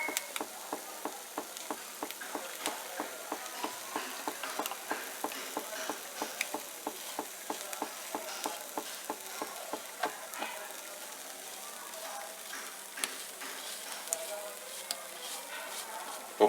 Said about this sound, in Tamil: நெய் அப்படியே உருகுது அனல்ல.